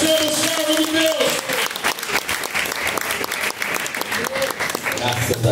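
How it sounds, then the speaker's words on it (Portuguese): A church congregation bursts into sustained applause during a Pentecostal service, dense clapping filling the room, with a voice speaking over it at the start and end. "Palmas para o Senhor"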